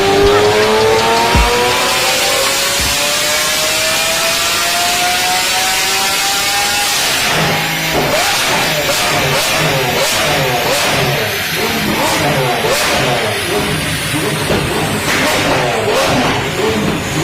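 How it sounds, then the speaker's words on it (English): A Lamborghini Aventador's loud exhaust roars up in a rising sweep for several seconds, then settles into a harsh, rasping, crackling drone that runs steadily close by until the end, with no one speaking. "Lamborghini Aventador sound check."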